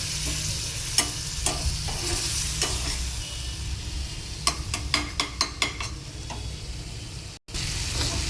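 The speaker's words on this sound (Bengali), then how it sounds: "এবারে এটাকে ভালো করে কষিয়ে নিয়ে তারপরে মাছটা দেব" Tomato, chilli powder, turmeric and salt masala fries in a hot pan with a little water, under a steady sizzle broken by scattered spatula scrapes that bunch into a quick run of strokes toward the end.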